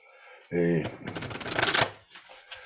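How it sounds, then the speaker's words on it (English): A deck of cards riffle-shuffled up close, a short buzzing flutter of cards snapping together, ending with a soft settling. "let's give it a shuffle, a real shuffle"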